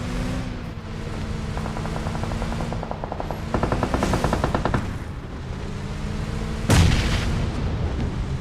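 Video game gunfire in a scrim match: sustained rapid automatic bursts, loud and close, with a sharp explosive blast near the end.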